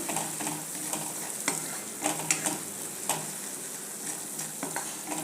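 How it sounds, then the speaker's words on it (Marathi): Green chilli and red chilli powder sauté in a spoonful of oil, a continuous gentle sizzle broken by repeated scraping stirs of a spoon against the pan. "याच्यात थोडेसे पांढरे तेल टाकूया एक चमचाभर ते व्यवस्थित परतून घ्यायचं"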